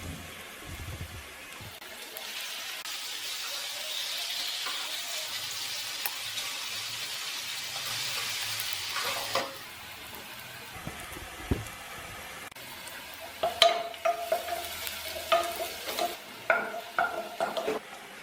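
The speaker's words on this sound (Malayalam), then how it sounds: "ആ പച്ചമുളകിൻ്റെയും ഇഞ്ചിയുടെയും വെളുത്തുള്ളിയുടെയും ഒക്കെ പച്ചമണം മാറുന്നിടം വരെ നമുക്ക് വഴറ്റിയെടുക്കണം" Green chili, ginger and garlic sauté in a pan for Kerala-style fish molee, a steady close sizzle that turns into louder, irregular stirring scrapes and clinks of a spatula toward the end, with no speech.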